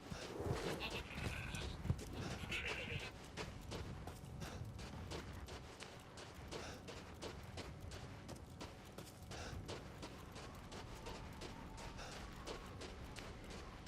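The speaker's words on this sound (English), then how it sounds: "Hello, goat." A goat in Resident Evil Village bleats a few times, partly buried under dense game noise with clattering, hoof-like taps and rumbling ambience.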